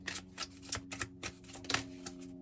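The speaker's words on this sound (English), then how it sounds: "I shuffled these cards" Tarot cards being shuffled by hand in a run of quick, crisp riffling bursts, close and fairly quiet, with no talk over them.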